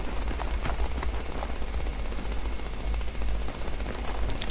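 Dense, continuous automatic gunfire from the online video game Battlefield 3 crackles without pause, with rapid overlapping shots at steady loudness throughout.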